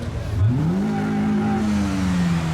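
A car engine revs at a car meet, rising sharply in pitch and then holding a steady, loud drone before easing slightly, with no talk over it.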